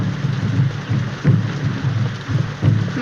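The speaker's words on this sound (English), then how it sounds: "This rain and those drums." Steady heavy rain pours while low rumbles of thunder roll in and out every second or so, with no voices.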